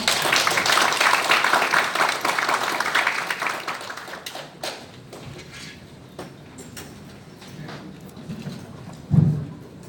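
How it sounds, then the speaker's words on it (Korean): Audience applause at a political gathering of a conservative group in a National Assembly hall in Yeouido, a dense clapping wash that starts loud and gradually thins and fades, with a brief thump near the end. "박수 부탁합니다."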